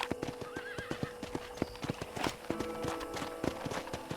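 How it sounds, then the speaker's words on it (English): Horse hooves clip-clop in a steady run of sharp, evenly spaced strikes while a horse whinnies partway through, on a ranch in the Red Dead Redemption video game, with game music faintly underneath. "let's see if you can still ride a horse."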